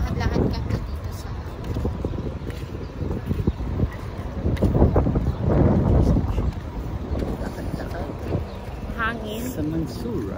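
Wind gusting outdoors by Mansura metro station in Doha, Qatar, a steady rumbling buffet across the microphone with people talking over it.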